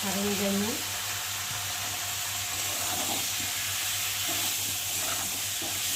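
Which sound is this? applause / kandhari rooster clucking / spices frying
spices frying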